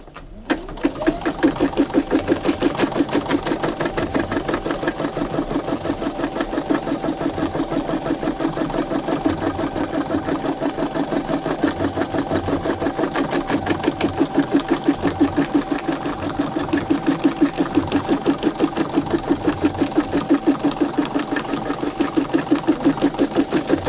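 A sewing machine stitches a tack-down line on a towel, running in a fast, steady mechanical chatter, loud and close for the whole stretch without pauses.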